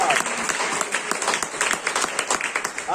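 Church congregation at a family conference applauding, dense sustained clapping from many hands filling the room, with a few voices mixed in.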